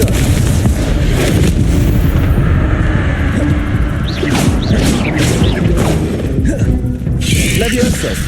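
Repeated Confringo blasting-spell explosions from the Hogwarts Legacy video game boom over dense, loud battle noise, with several sharp bursts and crashes through the continuous combat din.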